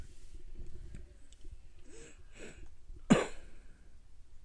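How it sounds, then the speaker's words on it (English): A person coughs and clears their throat, with wheezy, raspy bursts and one sharp loud cough near the end, close to the microphone and with no talk. "Sorry about the coughing again."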